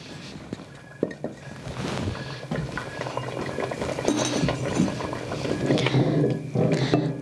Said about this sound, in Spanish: Ya está hirviendo el jitomate que le puse